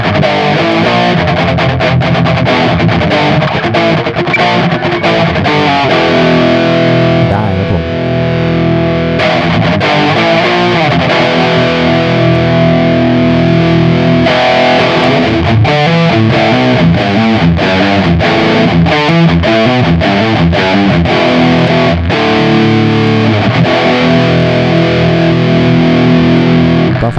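Heavily distorted electric guitar chugging through a Valeton Coral Amp digital amplifier, thick saturated tone with rhythmic palm-muted bursts, continuous and close.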